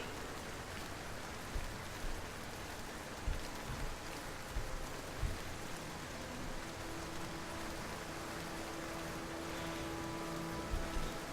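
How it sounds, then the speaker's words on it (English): Steady rain falling in the game Morrowind, a continuous soft hiss at even level with a few faint low thumps scattered through, no voices. "Seems like it always rains in games where it rains."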